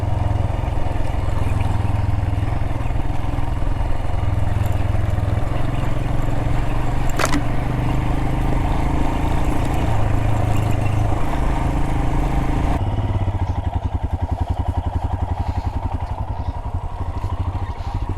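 Motorcycle riding a ridgeline road on a camping trip, its engine droning steadily and loudly throughout with wind and road rumble, the tone shifting slightly partway through as if changing gear or surface.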